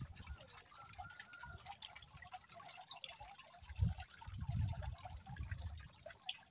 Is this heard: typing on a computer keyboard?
no